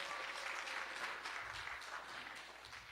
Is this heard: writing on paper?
no